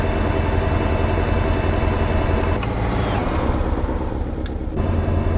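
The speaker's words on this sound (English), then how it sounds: "there's a train on my left, and I am most definitely overhauling it" A train rolls by steadily in American Truck Simulator, a dense, loud rumbling drone with rhythmic clatter that holds for several seconds, with a couple of sharp clicks near the end.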